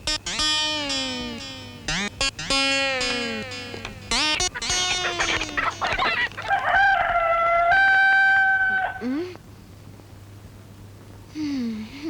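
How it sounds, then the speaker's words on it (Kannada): A rooster crows at dawn, a loud, near series of rising and falling calls that repeat several times and then fade into quiet. "ಕೋಳಿ ಗರ್ಜಿಸ್ತಾ ಇದೆ"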